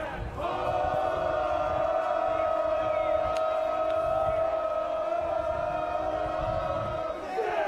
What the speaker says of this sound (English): And the crowd's having a good time.